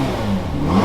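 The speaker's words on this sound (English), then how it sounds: "They said I wouldn't rev it." A Ferrari GTC4 engine revs in a short, loud, close burst with a deep rising roar.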